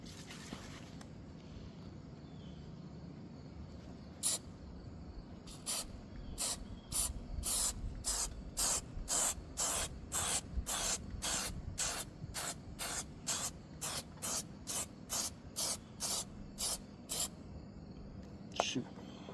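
Spray adhesive hisses out of an aerosol can onto the A-pillar carpet of a 2007 Volvo, fired in roughly twenty short, evenly spaced bursts that sound close and clear above a low background rumble.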